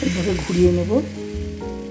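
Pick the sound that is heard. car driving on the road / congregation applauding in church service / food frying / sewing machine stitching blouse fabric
food frying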